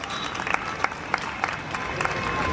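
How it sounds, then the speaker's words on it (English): An audience at a school annual day event gives a round of applause for the chief guest, a steady patter of many hands clapping at moderate volume for a couple of seconds. "Please give him a big round of applause."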